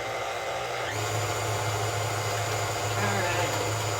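An electric mixer whirs steadily through banana bread batter, a continuous even drone with a low hum that holds for the whole stretch, close by and moderately loud.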